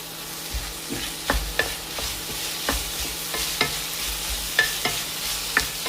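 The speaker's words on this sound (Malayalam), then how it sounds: "അതിലേക്ക് അരിഞ്ഞു വെച്ചിരിക്കുന്ന പച്ചമുളകും കോവയ്ക്കായും ചേർക്കാം." Chopped green chilies and ivy gourd being stirred into sautéing onions in a pan, with a soft steady sizzle under repeated sharp scrapes and taps of a spoon, close and alone, with no talking.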